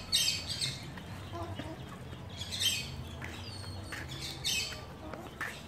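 Chickens and small chicks squawking and chirping while being fed, with scattered high calls and clucks over a low background rumble, moderately faint and continuing throughout.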